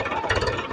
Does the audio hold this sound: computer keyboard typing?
no